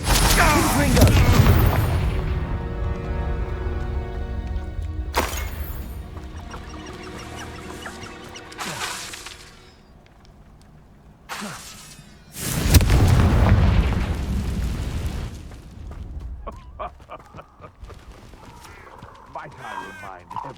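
Confringo fire spells blasting in the Hogwarts Legacy game, heavy booming explosions followed by rumbling decay, with in-game clucking, voice lines and lighter impact sounds between the blasts.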